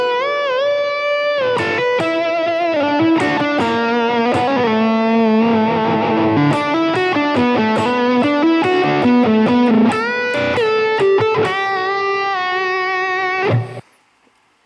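Electric guitar playing a classic rock lead through a Boss DS-1 distortion pedal: sustained, bending distorted notes and fast melodic runs, loud and continuous, ending abruptly near the close.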